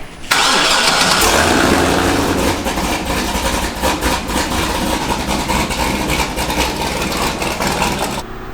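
A stage 4 Z06 car engine cranks and fires up loudly, then settles into a rough, lumpy, throbbing idle that runs steadily close by.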